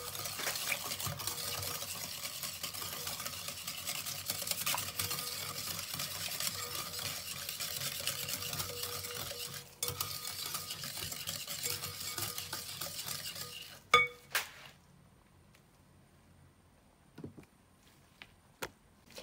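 Butter, sugar and a pinch of salt mixed in a bowl for chocolate coconut sablés, a steady rhythmic scraping and churning that stops abruptly, followed by a few isolated knocks in near silence.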